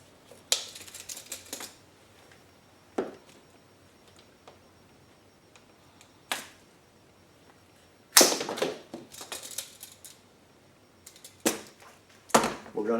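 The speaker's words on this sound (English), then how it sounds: "First thing we're going to do is cut a section of the 1/4 inch hose 5 inches long." A 1/4 inch fuel hose is cut into a short section, heard as several sharp, close snips and clicks scattered among quiet pauses.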